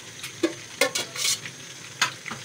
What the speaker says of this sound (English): So I'm going to fry it till it changes its color.